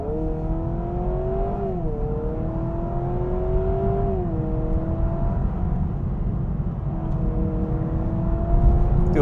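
A 2026 Honda Prelude engine revs under hard driving, its harmonic tone rising and dropping sharply around gear changes, then holding a steady droning note over continuous road rumble, loud and close throughout.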